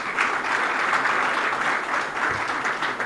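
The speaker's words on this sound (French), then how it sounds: "Est-ce qu'on peut bien applaudir ce jeune monsieur?" Audience applause at an NGO's tenth-anniversary event, a steady dense wash of clapping from a crowd that holds evenly from start to finish with no voices over it.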